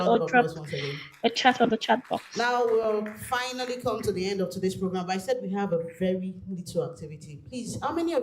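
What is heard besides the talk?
None of the usual background noises is heard.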